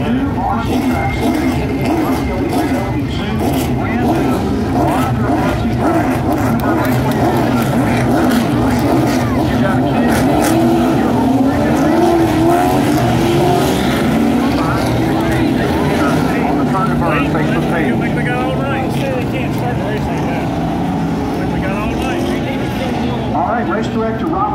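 Street stock cars race around Bowman Gray Stadium, their engines forming a loud, continuous roar that rises and falls as they pass, under the constant talk of an announcer.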